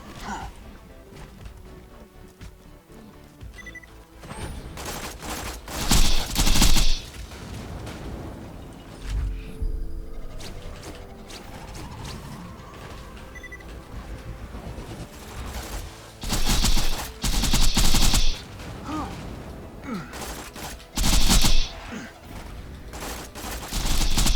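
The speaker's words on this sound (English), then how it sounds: "Shields weren't full when I started firing" Gunfire in the shooter game Borderlands 2, several loud bursts of rapid shots separated by quieter stretches of game ambience, with a voice talking at times.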